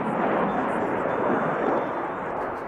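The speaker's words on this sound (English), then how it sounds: "Look at the ease at which the aircraft is able to carry out this maneuver." A fighter jet at the Aero India 2025 air show in Bangalore produces a loud, continuous broadband roar through a maneuver, filling the whole stretch without letting up.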